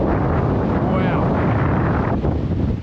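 Strong wind buffets the microphone high on the Stirling monument in Scotland, a loud, steady roaring rumble that fills the whole clip with no break.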